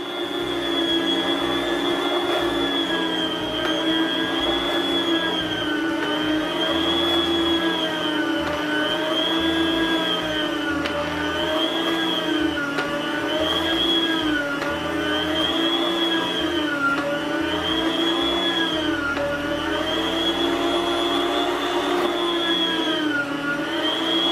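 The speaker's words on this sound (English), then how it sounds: "got my new meat slicer out here. You know this thing's noisy, but you just have to put up with it for a minute" An electric meat slicer runs steadily while slicing pork, with a loud, continuous motor whine and hum whose pitch wavers slightly in a regular rhythm as each slice passes the blade, close and alone without talk.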